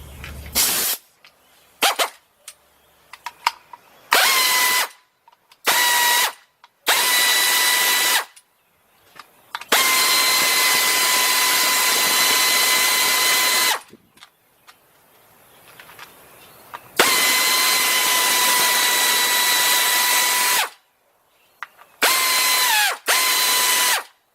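Pneumatic ratchet on a timing chain guide of a 2003 Nissan Maxima GLE 3.5 engine, firing in repeated loud bursts, short rattles and longer sustained runs with silent gaps, close up and with no talk.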